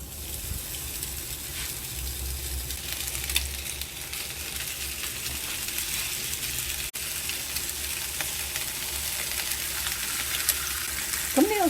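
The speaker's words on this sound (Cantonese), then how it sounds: "就咁擠落去煎。" Beef short ribs sizzle and fry in an unoiled pan in their own fat, a loud, steady crackling hiss that runs throughout, with a faint rattle of the pan.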